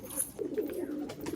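Punjabi Malwai pigeons coo in a short, soft series of low throaty calls, fairly close and unaccompanied by speech.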